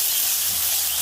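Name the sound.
frying snail fritters in oil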